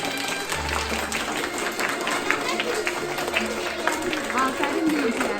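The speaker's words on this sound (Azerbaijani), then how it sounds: "Gəlin o zaman birinciləri alqışlayaq." Schoolchildren applaud the first-grade class at a Victory Day school exhibition: a steady wash of clapping and crowd noise under a voice that keeps talking.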